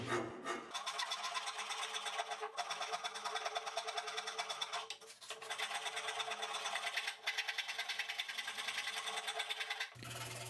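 Steady, rough rasping of a file scraping across wood, repeated in quick back-and-forth strokes for about ten seconds, close and fairly loud.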